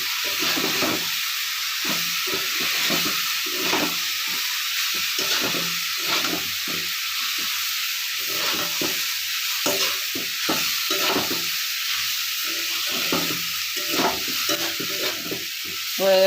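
Chow mein noodles stirred in a pan with a spoon over a constant hissing fry, with rapid, steady scraping and tossing strokes, close and continuous, no talking.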